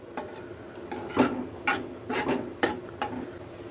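A spoon scraping and stirring green sauce and chilli sauce into vegetable Manchurian gravy in a pan, with about eight close rasping strokes in an uneven rhythm.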